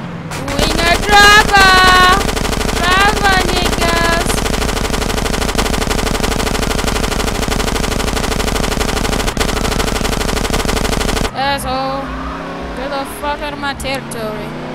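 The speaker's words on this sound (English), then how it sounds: "Stop shooting at me." Rapid automatic gunfire from the Grand Theft Auto video game, a loud continuous rattling burst that lasts most of the stretch, mixed with game engine noise and a voice, before dropping away near the end.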